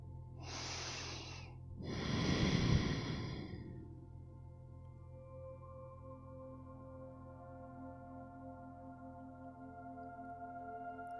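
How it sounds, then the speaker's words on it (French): Two slow, deep breaths drawn in through the nose during a yoga nidra relaxation session rise and fade in the first few seconds, then give way to a soft, steady ambient drone with no talking. "Inspirez par le nez et à chaque expiration, dites-vous « Je me détends »"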